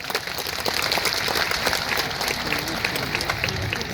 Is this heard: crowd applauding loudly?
yes